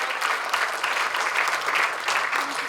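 Audience at a Hindi poetry gathering claps steadily, a dense, lively round of applause that stays at an even level for a few seconds with faint voices mixed in.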